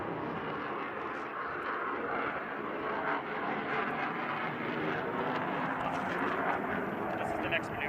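At an air show, an F/A-18 Super Hornet jet roars through a half Cuban 8 maneuver, a broad, sustained engine rumble heard from a distance. A commentator talks over it throughout.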